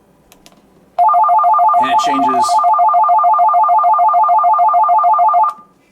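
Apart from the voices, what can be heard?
radio call alert tone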